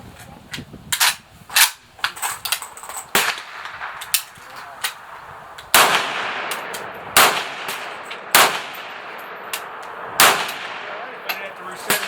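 An IO AK47 rifle test fired, giving a series of sharp, loud single shots spaced irregularly over several seconds, each with a short echoing tail, with quieter clatter and handling noise between them.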